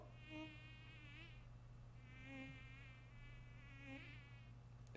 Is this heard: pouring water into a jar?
no